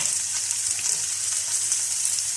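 Vegetables frying in a pan, a dense hissing sizzle that stays steady and close throughout, with faint stirring movement underneath.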